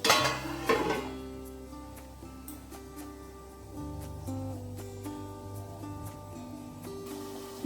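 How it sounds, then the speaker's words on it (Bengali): A lid set over a pot of thin potato curry, with a quick cluster of metallic clinks and clatter at the start, then a quiet tonal backdrop. "এবার একটা ঢাকনার সাহায্যে ঢেকে দেবো"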